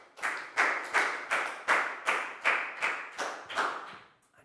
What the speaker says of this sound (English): Big round of applause for Chu, guys.